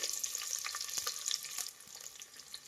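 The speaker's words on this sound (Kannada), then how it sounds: "ಇದನ್ನು ಒಂದು ಸ್ವಲ್ಪ ಚೆನ್ನಾಗಿ ಫ್ರೈ ಮಾಡಬೇಕು ಈರುಳ್ಳಿನ" Sliced onions fry in a pan for tomato bath, making a faint, crackly sizzle with scattered spatula taps, softer toward the end.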